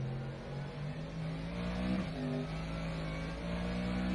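A Mercedes AMG GT3 in the rFactor 2 racing game braking into a turn at Silverstone, a steady loud engine drone with pitch shifting down as the revs fall.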